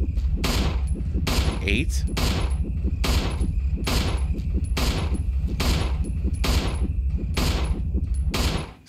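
Repeated booming shots fired in Resident Evil 1, about a dozen heavy blasts in a steady rhythm, loud and close, with a brief spoken word in between.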